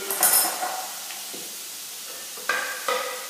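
Garlic frying in a stir fry pan gives a soft steady sizzle, broken by a few close scraping stirs and clinks of a utensil against the pan.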